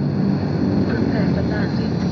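A spaceship entering a planet's atmosphere in a video game gives off a steady, loud, broad rumbling roar, like a heavy aircraft engine, that holds even for about two seconds.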